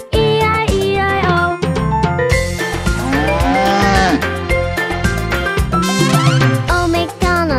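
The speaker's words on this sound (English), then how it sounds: "With a moo-moo here and a moo-moo there, here a moo, there a moo, everywhere a moo-moo." Cartoonish cow moos ring out over a bouncy nursery-rhyme farm song, with loud, steady music and singing running throughout.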